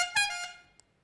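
A car horn gives a short, bright honk lasting about a second, fairly close, followed by a tiny blip, with no talking.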